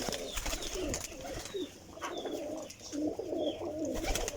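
Close, continuous low cooing from a group of pigeons, rolling and overlapping, with a few thin chirps and faint wing or cage noises around them.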